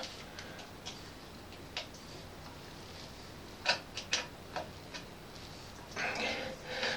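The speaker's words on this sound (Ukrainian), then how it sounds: "тримаючи тут рукою, зажимаємо болт вже зверху викруткою" A screwdriver tightens a bolt under a bathroom sink from above during drain cleaning, producing faint, close, intermittent metallic ticks and ratcheting clicks over quiet background.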